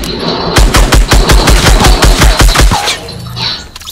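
Rapid automatic gunfire from the video game Fortnite, a loud burst of about a dozen evenly spaced shots that cuts off, followed by quieter in-game noise.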